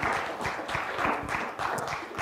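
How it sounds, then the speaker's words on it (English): Church congregation applauding mothers on Mother's Day during a Baptist service, a short burst of scattered clapping from the pews, fairly soft and slightly distant. "So happy Mother's Day to all of you mothers. You, yes, we can applaud, yes."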